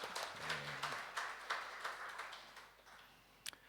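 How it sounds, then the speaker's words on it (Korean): A church congregation in Jakarta claps together during a Sunday worship service, a light, fairly faint patter of hands that gradually thins out and ends in a few scattered claps. "우리 다시 한번 박수하겠습니다"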